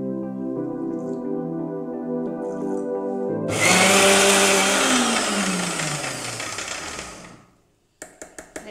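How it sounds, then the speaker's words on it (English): Electric mixer-grinder whirring through dry ginger powder and a spice mixture with a little water added, starting abruptly and loud, its motor pitch sliding down as it runs, then stopping, followed by a few short clunks. "Let's grind it a little more finer."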